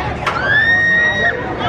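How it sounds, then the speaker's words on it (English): A single high, sustained scream rises from riders on an amusement park ride at Busch Gardens Williamsburg, heard at a distance for about a second over loud crowd noise and nearby chatter. "Somebody screaming."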